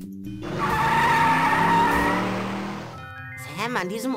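In the point-and-click game Sam & Max Hit the Road, a car drives off with a loud, sustained tire squeal and engine whine that fades after about three seconds, then a voice starts talking.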